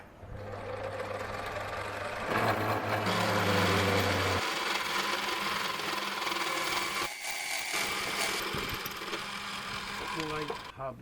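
A metal plate hub for a modified Gingery dividing head is machined on a mill, the drill's steady loud whine running throughout with shifting tones and a brief dip partway.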